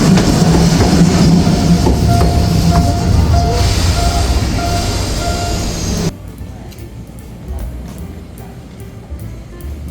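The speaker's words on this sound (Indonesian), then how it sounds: "Dari Arashiyama ke Fushimi Inari, kita naik kereta sekitar 30 sampai 45 menit." A Kyoto train rolls between Arashiyama and Fushimi Inari with a steady loud interior rumble and hum, then cuts to quieter cabin ambience with faint rhythmic clicks.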